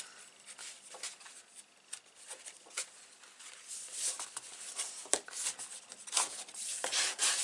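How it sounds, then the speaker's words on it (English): Cardboard album pages are burnished with a tool in a quiet, close series of rubbing and scraping strokes, with soft irregular friction sounds that come and go. "And then burnish both ways."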